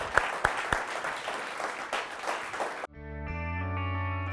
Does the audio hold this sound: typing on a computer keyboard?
no